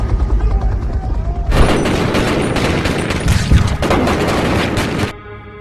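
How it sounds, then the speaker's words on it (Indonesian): Soldiers fire guns in a film scene, producing a loud, dense burst of rapid automatic gunfire that erupts after about a second and a half and rattles continuously for several seconds before cutting off, with a low rumble before and after. "pasukan DIE lain lalu menembak brutal Jojo hingga remuk tak bernyawa"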